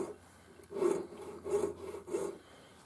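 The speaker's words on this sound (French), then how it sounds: "Et avec la scie, dans la prolongation d'un côté, je scie un peu comme ça" A small hand saw rasps back and forth through wood in three short, steady strokes, close by and moderately loud.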